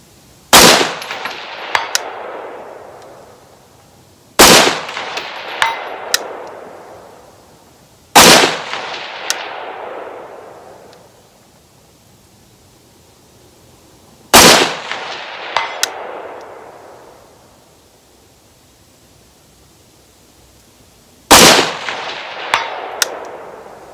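Five loud rifle shots, fired through a Swampfox SABER 5x36 prism optic with a Sentinel red dot, ring out at spaced intervals at an IDPA steel target 300 away. Each blast has a long echoing decay and a faint metallic clang of impact shortly after.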